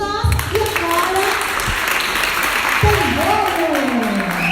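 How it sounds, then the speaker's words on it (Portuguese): An audience at a Black youth conversation circle applauds in steady, dense clapping. Voices talk and call out over the sound. "Uma salva de palmas para todos nós."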